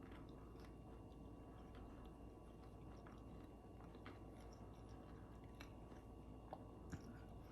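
Close, quiet biting and chewing on a crunchy fried ham, cheese and potato croquette, with soft, steady mouth crunches over a low background hum and no talking.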